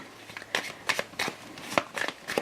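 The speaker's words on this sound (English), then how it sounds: "I'll just pop 2 on the top and 2 on the bottom of the deck, and then give it a shuffle" A deck of playing cards for a Pandemic Legacy board game is shuffled by hand, a run of crisp riffling bursts repeating at a steady rhythm, close and clear with no talking.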